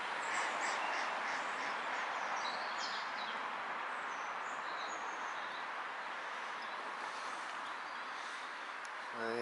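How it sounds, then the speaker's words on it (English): Birds and ducks call outdoors at sunset, a dense steady chorus of chirps and faint quacks at a distance, with brief clicks near the end. "I can hear a lot of birds actually behind me."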